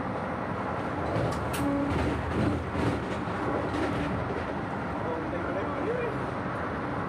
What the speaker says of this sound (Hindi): आप देख सकते हो अभी भी जो ट्रेन की स्पीड है वो 130 है